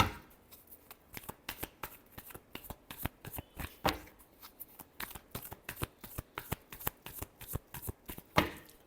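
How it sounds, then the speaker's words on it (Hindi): Tarot cards are shuffled in a steady series of crisp riffling flicks, close and fairly quiet, with a couple of louder slaps and no talking. "Last shuffle."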